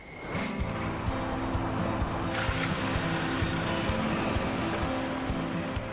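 A car towing a Jayco caravan pulls away, its engine rising as it drives off on the road, steady and fairly close, with no talk.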